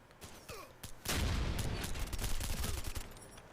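Sustained automatic fire from an ACR rifle in Ghost Recon Future Soldier, starting with a few scattered shots before a dense, continuous rattling burst of gunfire that stays loud and close to the end.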